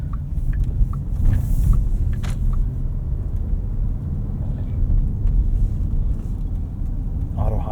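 Interior road noise from a 2024 Porsche Cayenne S driving through a neighborhood at night: a steady low rumble of engine and tires with occasional faint clicks, and a person talking over it.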